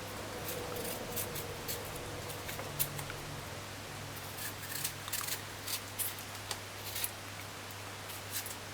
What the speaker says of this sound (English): Chocho. You just peel it.